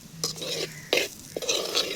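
A spoon stirs potato and masala with egg in a pan while making biryani, giving several close, uneven scraping strokes over a soft background sizzle.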